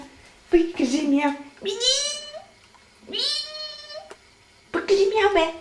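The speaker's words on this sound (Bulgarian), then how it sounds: "Пъки, кажи мяу." A cat meows four times close up, each a drawn-out, rising and falling cry separated by short pauses.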